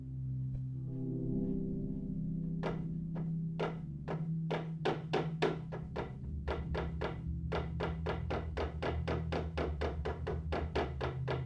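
Knocking heard as a long series of sharp raps, first spaced then quickening into rapid rhythmic bursts, over a steady low hum.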